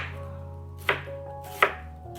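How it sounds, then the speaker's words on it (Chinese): An onion halved with a kitchen knife: two sharp, close thuds of the blade striking the board, spaced apart, with quiet between and no voices. "洋葱对半切开"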